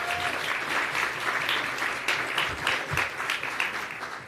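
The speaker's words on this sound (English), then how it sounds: "I want you to first applaud all of them for their public service." An audience at a Greek Independence Day reception gives sustained applause for members of the mayor's administration, a dense, steady wash of clapping that holds at an even level throughout.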